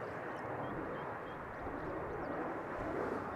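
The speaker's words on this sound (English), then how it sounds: "Seems that there is a 737-900 outbound to Manchester, going to take off first." A KLM Boeing 737-900, about 21 years old, takes off from Amsterdam Schiphol, giving a steady broadband jet engine roar that holds at a constant moderate level from a distance.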